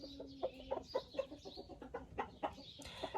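An Araucana hen clucks close by in a quick series of soft, repeated notes.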